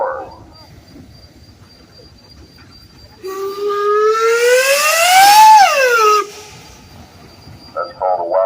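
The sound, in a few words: wildcat steam whistle on a 1924 Minneapolis steam engine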